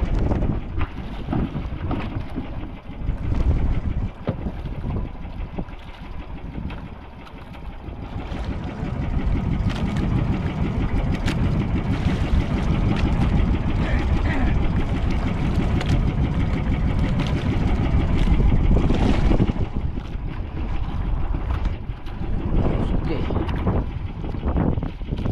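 A boat engine drones steadily throughout, with heavy wind buffeting the microphone and faint voices now and then.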